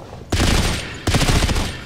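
Two sustained bursts of rapid automatic fire from sentry guns shooting at a skulk in Natural Selection 2, each roughly three-quarters of a second long and loud, separated by a short gap.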